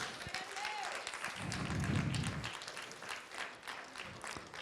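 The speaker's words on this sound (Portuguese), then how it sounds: "pode aplaudir o Senhor," A church congregation applauds together in a worship service, a steady wash of clapping that swells in the middle and then eases slightly, with a low rumble and faint voices mixed underneath.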